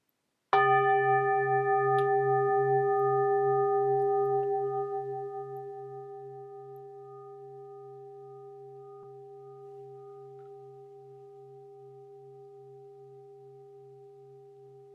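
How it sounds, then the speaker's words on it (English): A Nepalese Tibetan Buddhist bell is struck once and rings alone with a clear, steady, shimmering tone that starts loud, then fades slowly over many seconds into a soft, lingering hum. "Come ride the sound of this Nepalese, Tibetan, Buddhist bell into our shared experience of sacred space and time."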